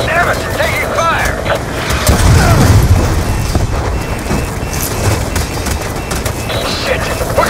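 Heavy gunfire and explosions in Call of Duty: Black Ops 2, with loud, dense bursts and booms layered over a constant roar of battle and shouted voices throughout.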